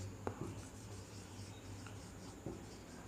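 Pen scratches across paper as notes are written during a steel structures lecture; brief close strokes with a couple of taps over a low background hum, no voices.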